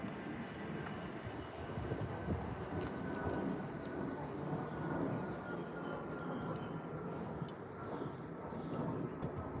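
An Avanti passenger train passing Acton Bridge makes a continuous broad rumble and roar at moderate level, steady throughout with faint wind noise and no clear talk.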